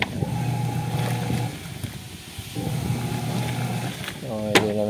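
A Whirlpool LSP780GP 7.8 kg top-load automatic washing machine runs noisily, its steady motor hum rising and falling in two long stretches with a brief dip between, ending in a louder whine.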